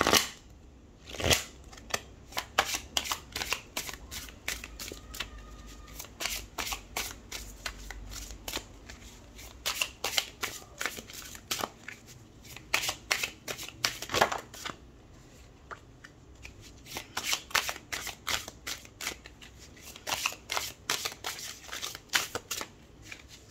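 Urban Tarot cards being shuffled, a long run of quick crisp riffling and snapping bursts in irregular rhythm, close and fairly loud with no talking.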